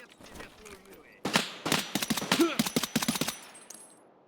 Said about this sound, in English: you can just blow through ammo on fully auto sometimes